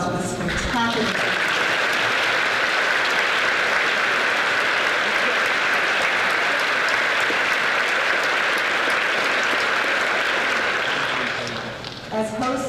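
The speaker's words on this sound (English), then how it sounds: "How about one more round of applause for this spectacular." A large audience at a university academic convocation applauds loudly and continuously for over ten seconds before the clapping tapers off near the end.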